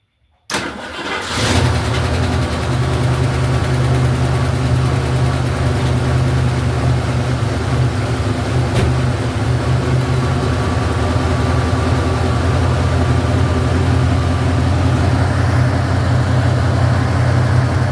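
A 1971 Ford Torino engine cranks and fires on a cold morning, catching quickly and settling into a steady, loud, rumbling idle that holds for the rest of the stretch with no talking.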